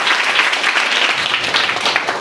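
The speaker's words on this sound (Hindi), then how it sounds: "जिसके लिए भी तालियां बज जाए एक बार।" Students in a girls' high school classroom clap together in a dense, steady burst of applause that stays loud and even for a couple of seconds, with no talking over it.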